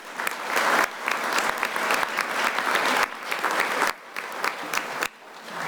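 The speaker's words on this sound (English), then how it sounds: "let's all give a final round of applause to all of our Hall of Famers." An audience claps for Hall of Famers at an induction ceremony, steady dense applause from a crowd that dips briefly and swells again before thinning out.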